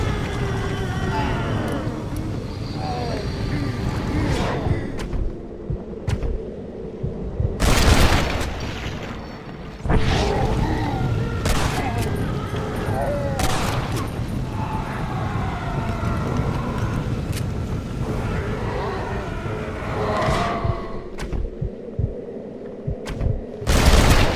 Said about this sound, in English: You keep coming, I'll keep shooting.